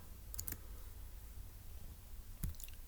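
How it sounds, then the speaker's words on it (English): Keyboard typing while notes are entered for a Turing Machine puzzle: a few faint, sparse clicks, one cluster early on and another near the end, in a quiet room. "let's go ahead and type that up in our notes"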